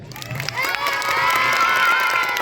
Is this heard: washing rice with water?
no